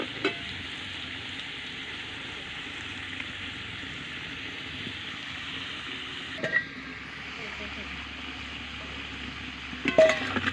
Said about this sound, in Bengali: লাল লাল করে আলুটা ভেজে নিয়েছি।